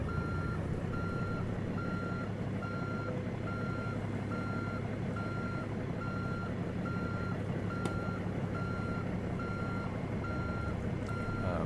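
A truck's reversing alarm in American Truck Simulator beeps in a steady, evenly spaced rhythm while it backs up, clear above a constant loud engine rumble throughout, with no talking.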